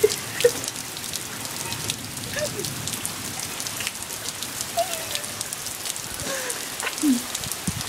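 Steady rain patters on a surface, with scattered drips and splashes, fairly soft and continuous throughout.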